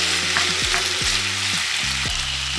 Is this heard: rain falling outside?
no